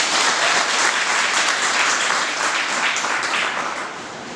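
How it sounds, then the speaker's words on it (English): Steady, dense applause from an audience fills the hall at a school academic symposium, loud and continuous before easing slightly toward the end. "Can we give a clap for that?"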